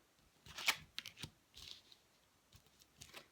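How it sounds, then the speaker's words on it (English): Tarot cards are gathered up from the floor, giving faint, scattered papery slides and soft taps in short irregular bursts, close by and quiet, with no talking. "Actually taking cards off the floor."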